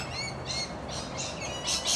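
An introduced bird in a suburban Perth, Western Australia setting gives a series of loud, clear whistling calls in short bursts, close to the microphone over soft background ambience.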